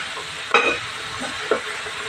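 Vegetables for a broad bean usal sauté in a pan with a soft continuous sizzle, broken by two brief scraping stirs of a spatula against the metal.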